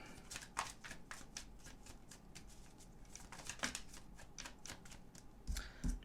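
Tarot cards being shuffled and drawn by hand, a close, steady run of soft riffling flutters and slaps with a brief denser burst near the end, quiet and without talking.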